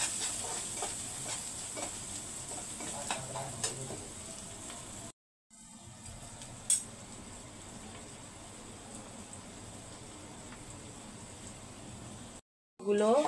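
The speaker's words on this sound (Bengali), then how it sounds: "আমি সবগুলো উপকরণ সুন্দর করে কষিয়ে নেব।" Chili powder, salt and other ingredients fry in a pan with a faint continuous sizzle and occasional scraping stirs, cut by two short silent gaps; a voice may speak softly over it.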